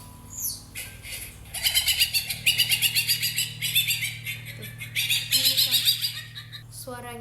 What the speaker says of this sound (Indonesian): Suara musang bulan birahi.